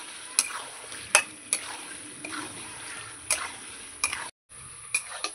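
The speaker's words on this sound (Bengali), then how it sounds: "মাংস আর আলু কিছুক্ষণ আমি কষিয়ে নেব।" Chicken and potatoes sautéed in ground spice paste in a pan, a low steady sizzle broken by sharp metallic clinks and scrapes of the spatula at irregular intervals, with a brief silent gap near the end.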